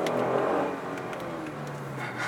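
A Kia Stinger GT's 3.3-litre twin-turbo V6 drones and revs steadily in first gear on a racetrack, loud and close, with the pitch holding fairly even throughout.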